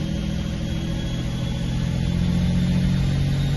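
A 2JZ-engined Lexus SC300 drones steadily on a dyno in third gear, a loud, continuous engine roar with a deep rumble that builds slightly toward the end, close and unbroken.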